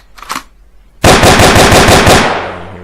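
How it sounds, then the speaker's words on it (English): Automatic weapon fire in a GameMaker Studio game: after a faint click, a loud sustained burst of rapid, evenly spaced shots rattles for about a second and a half, then rings out. "And there's our automatic firing there."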